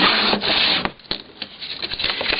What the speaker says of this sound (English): I'm going to use my bone fold for this one pretty much